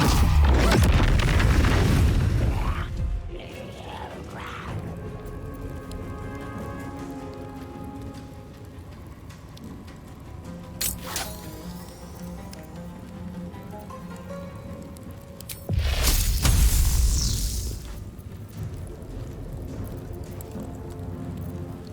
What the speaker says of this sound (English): Maybe we do a nice fireball here since they're still bunched up.